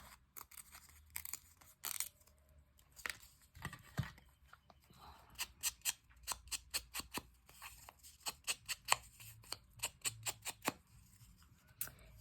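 Scissors snip through an 8x12 paper file folder being trimmed for a small bird folio, a long run of sharp, close, rhythmic cuts with brief pauses, no talking over it.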